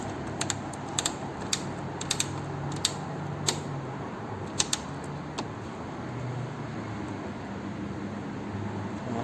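A Crossman ratchet ring wrench clicks in quick, uneven bursts while tightening a bolt, the pawl snapping close and crisp before the ratcheting stops and only faint room noise remains.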